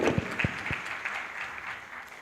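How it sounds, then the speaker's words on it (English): A conference audience at a biomedical and biotechnology event gives a brief round of applause, with a few distinct claps at the start before the clapping fades into fairly faint, scattered patter. "let's give her a round of applause"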